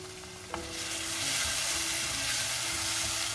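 Brinjal kara kuzhambu with tomatoes frying in a pan, a steady broad sizzle rising after a sharp tap of the spoon, with stirring scrapes running through it; no one speaks.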